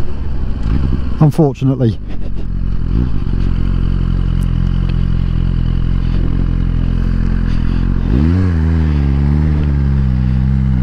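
A Suzuki GSX-R1000R sports motorcycle engine drones loudly under wind buffeting as a rider speaks briefly. Near the end the engine note rises and falls while the bike accelerates.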